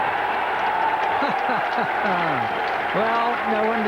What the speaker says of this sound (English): no wonder Javid's clapping